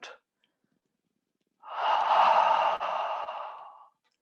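A long, audible out-breath during a qigong exercise, a breathy rush after a brief opening puff, lasting about two seconds before trailing off; close and alone.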